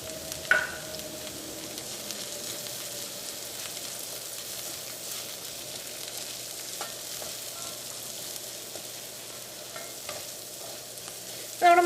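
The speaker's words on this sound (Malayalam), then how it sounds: "നമ്മുടെ മഞ്ഞൾപ്പൊടി എണ്ണയിൽ കിടന്നൊന്ന് മുരിഞ്ഞിട്ടുണ്ട്." Sliced onions and turmeric powder frying in oil for a Kerala cauliflower curry, a steady moderate sizzle with occasional clinks and scrapes of a spoon stirring the pan.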